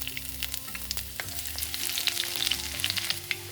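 Mustard seeds, half a teaspoon, sputter and pop in hot oil in a pan, with steady sizzling and scattered sharp crackles building through.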